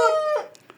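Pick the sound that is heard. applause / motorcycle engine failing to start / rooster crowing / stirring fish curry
rooster crowing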